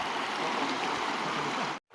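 A Nepali river stream flows past a fishing spot with a soft, continuous burble and rush, close by and unbroken, ending abruptly with no voices.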